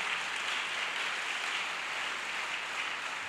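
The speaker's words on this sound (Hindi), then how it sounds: "मसीह के लिए जोरदार तालियां बजा सकते हैं आप" A church congregation applauds during a sermon, a steady, fairly faint wash of clapping that fills the short stretch with no one speaking over it.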